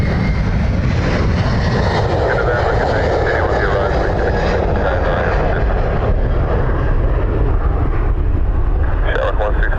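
A plane lands on the north runway at Dublin Airport with a loud, steady, close engine roar that holds unbroken throughout.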